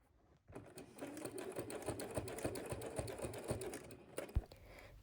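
A sewing machine back stitches across a fabric rug. After a brief quiet start, a steady, close mechanical whirring runs and ends with a soft clunk, with no voices.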